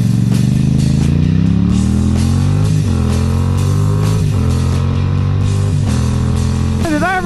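A Husqvarna 701 single-cylinder motorcycle engine runs close and loud, its deep pulsing note rising and dropping through several throttle changes with a steady mechanical rumble throughout.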